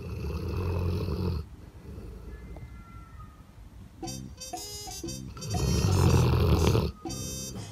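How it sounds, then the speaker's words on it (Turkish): A pet snoring with its eyes open: a low, rough rumble runs steadily through, with brief higher tonal bursts partway through, close and moderately loud. "Numaracı, gözü açık horluyor."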